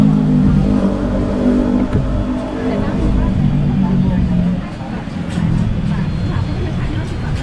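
Busy Bangkok street traffic near a flower and plant market, with tuk-tuks, taxis and delivery vehicles passing. Engines rumble and rev steadily, some close by, while someone talks over the noise.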